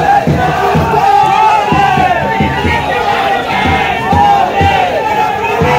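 A large crowd shouting and chanting during a Holi procession in a Konkan village, loud and continuous with rhythmic bursts of massed voices close by.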